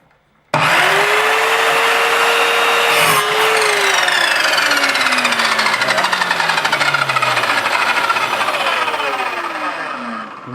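A miter saw spins up with a rising whine, bites into a wooden baseboard with a loud buzzing cut, then winds down as the blade slows.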